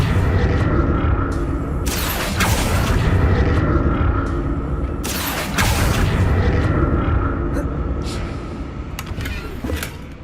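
Repeated booming Confringo blasting-spell explosions in a Harry Potter video game, two or three loud broadband bursts over a dense, continuous game soundscape.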